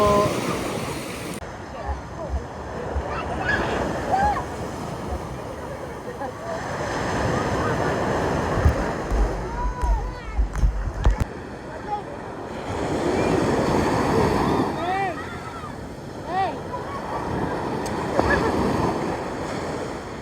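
Heavy surf crashes and rushes in repeated strong surges at a beach in Bolinao, Pangasinan, with wind buffeting the microphone and voices calling out over the roar of the water.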